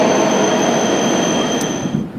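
A bullet train pulls into Nagano station with a steady loud rush and a high whining tone, fading slightly toward the end, no voices.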